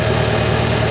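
A car engine idles steadily with a continuous, loud, close mechanical hum and nothing else.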